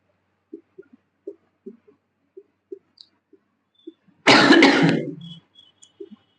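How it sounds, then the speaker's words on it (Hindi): A single harsh cough bursts out loudly amid quiet, with faint clicks and small taps scattered before and after. "खांसी आ रहा है उसके लिए थोड़ा क्षमा चाहेंगे।"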